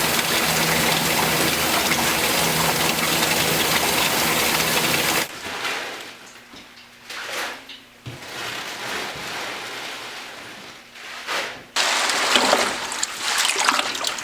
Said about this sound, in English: pre-wash. It's just a rinse, and this helps get a lot of the dirt or the compost off of the leaves.